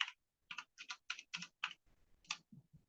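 Someone types a short command on a computer keyboard: about eight crisp, close keystrokes in a quick uneven run, then a few softer taps, with quiet between them.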